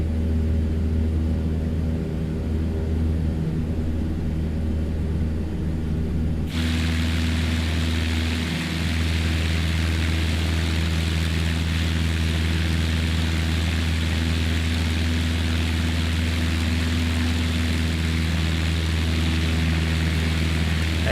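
Light single-engine aircraft drones steadily in flight, its engine and propeller a loud, continuous hum with strong low tones that jumps to a fuller, brighter roar partway through and holds without pause.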